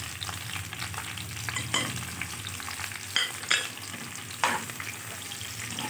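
Okra and whole green chillies sizzle in a pan as masala is stirred in, a steady close fry broken by a few sharp scraping stirs, with no talking.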